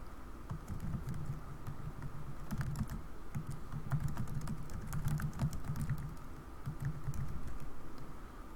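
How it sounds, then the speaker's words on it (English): Typing a note on a computer keyboard, a quiet continuous patter of keystrokes at an uneven rhythm with small pauses, close and alone. "I can go ahead and type in my note and click save."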